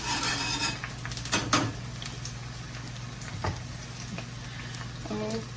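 Crisco fries on a small iron griddle with a soft steady sizzle, while metal utensils clank and scrape against it in close, sharp knocks.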